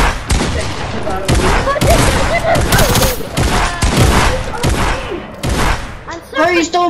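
Video game gunfire in a friendly one-on-one match, rapid bursts of sharp shots and thumps coming in close succession and loud, with a player talking over them.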